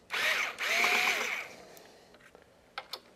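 A power screwdriver whirs in two close bursts, loosening the screws on a large M.2 SSD heatsink inside a gaming PC, followed by faint clicks and handling noises.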